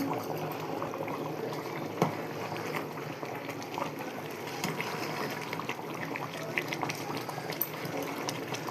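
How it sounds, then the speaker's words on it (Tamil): Biryani being gently stirred in a pot, a steady bubbling, sizzling bed of cooking sound with occasional soft scrapes and clicks throughout, close and moderately loud with no talking. "ரொம்ப போட்டு கிண்டாதீங்க, லைட்டாக கிண்டி கொடுத்துக்கோங்க."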